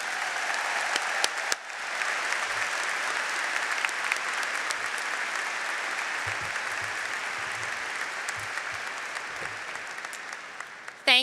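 Sustained applause from a graduation ceremony audience at the Wharton business school, welcoming the keynote speaker to the podium; steady, dense clapping filling the hall for about eleven seconds after a brief opening burst.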